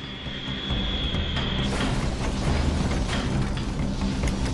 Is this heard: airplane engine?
yes